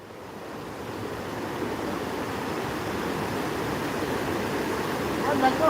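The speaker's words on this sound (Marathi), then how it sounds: "पाण्याचं प्रेशर लय खतरनाक आहे" Water rushes hard and steady under strong pressure outdoors, a continuous broadband roar that swells slightly toward the end, with people talking faintly around it.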